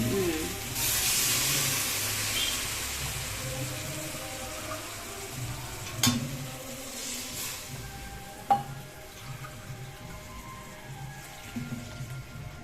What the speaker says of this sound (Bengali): এবার জল দিয়ে